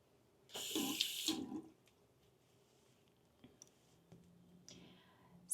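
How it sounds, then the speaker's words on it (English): Water sprays onto curly hair in a burst of short hissing spritzes near the start, followed by faint clicks and soft handling noises, close and quiet. "I'll use a little bit of water."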